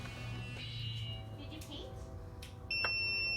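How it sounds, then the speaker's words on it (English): A multimeter continuity beep during alternator troubleshooting sounds as the test leads connect near the end: a steady electronic tone starts abruptly over faint background noise and low voices. "your meter is going to make a noise if these two leads touch each other"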